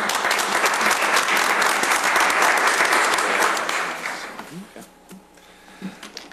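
Dense, loud applause from a meeting audience rolls for several seconds, then fades quickly, leaving a few stray claps and light room noise with a voice starting up.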